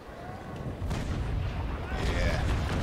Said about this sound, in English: this is gonna be a beautiful chain shot